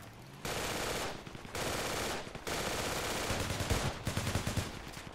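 Machine gun on a technical vehicle in the military shooter game Project Reality, long sustained bursts of automatic fire separated by short pauses, ending in a choppier stretch of shots, heard alone without speech.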